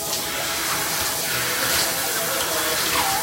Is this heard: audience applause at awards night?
no